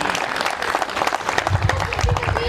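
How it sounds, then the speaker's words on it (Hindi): Guests at a wedding applaud in a dense, steady wash of clapping that fills the whole moment, loud and close, with a few voices mixed in. "एक बार तालियां जोर से हो जाए।"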